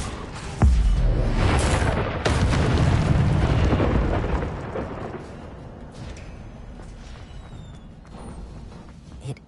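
In Hogwarts Legacy, the Incendio fire spell goes off with a sudden loud burst, then a roaring, rumbling blast that holds for a few seconds before fading away.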